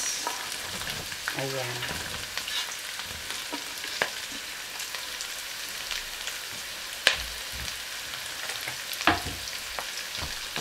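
Onion, carrot and beans stir-frying in a pan, with a steady broadband sizzle, scattered scrapes and a couple of sharp utensil knocks. A brief word is spoken early on.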